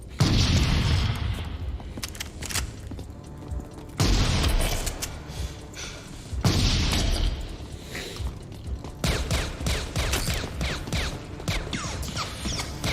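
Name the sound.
Beretta pistol gunshots in Terminator 2 film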